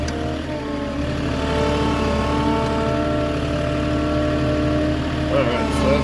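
Diesel engine of a Moffett truck-mounted forklift with the differential lock engaged, climbing a curb during a tight backyard delivery; a steady, close, rumbling idle-to-mid engine drone with no talk.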